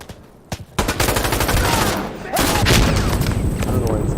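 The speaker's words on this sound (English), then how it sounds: "See, look at the machine gun." Dense, sustained machine gun fire in the tactical shooter game Insurgency Sandstorm, rapid bursts running almost continuously and loud, with a person talking over the gunfire.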